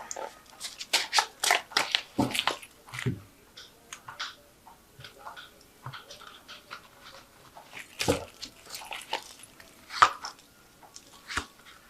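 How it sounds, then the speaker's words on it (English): Tarot cards are drawn from a shuffled deck in a series of soft slides, flicks and taps, with scattered light handling noises in between. "I'm just going to draw some cards from it."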